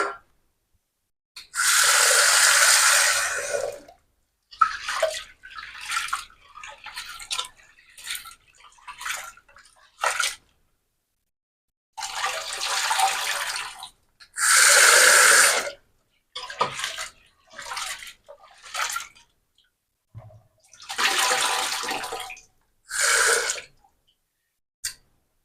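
Lentils being washed in water in a home kitchen, heard as repeated bursts of sloshing and swishing water separated by short pauses, close and fairly loud.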